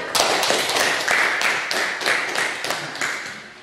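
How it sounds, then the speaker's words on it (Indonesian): A small group in a classroom claps briefly for a student group's presentation, a quick patter of hands that quickly thins out. "tepuk tangan untuk kelompok 1"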